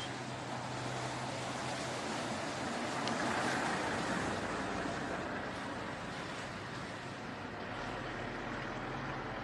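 Strong wind gusts buffet the microphone outdoors beside a palm tree, a steady broadband roar that swells slightly mid-clip and runs continuously with no talk.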